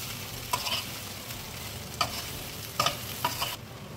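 Kerala-style beef fry with coconut pieces being stirred in a pan, a steady soft sizzle broken by four or five sharp scraping clanks of the spoon at irregular intervals, close by with no talking.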